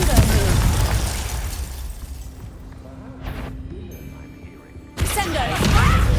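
Confringo blasting spell cast in Hogwarts Legacy, bursting with a loud, dense blast at the start and another sharp burst near the end, separated by a quieter lull of game ambience.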